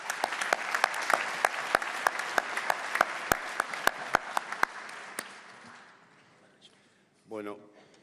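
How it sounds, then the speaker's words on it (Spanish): An audience at a political forum bursts into loud applause of many hands clapping, steady and dense for several seconds before it tapers off and fades, ending with a brief murmur. "Fuerte aplauso."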